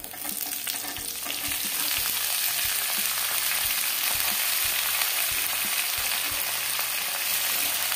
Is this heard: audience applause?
no